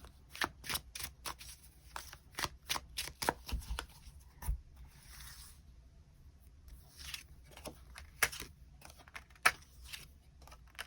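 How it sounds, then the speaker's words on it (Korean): Tarot cards being shuffled and drawn, giving a long run of quick, crisp flicks and snaps, close and fairly quiet, with brief gaps between bursts. "추가 카드 뽑아보도록 하겠습니다"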